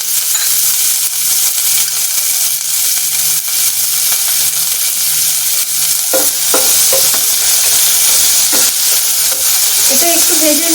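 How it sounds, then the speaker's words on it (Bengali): Chopped onions with a pinch of salt fry in a pan with a loud, constant sizzling hiss close up, and a few clinks of stirring toward the end. "আমি পেঁয়াজ কুচিগুলো দিয়ে দিচ্ছি।"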